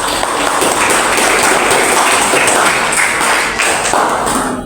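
Applause from a classroom group of teachers, a steady dense patter of clapping hands that holds throughout, close and fairly loud.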